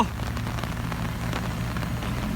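Steady rain pours down on an outdoor work site, a dense, even hiss of drops on surfaces with a low rumble beneath, unbroken for the whole stretch.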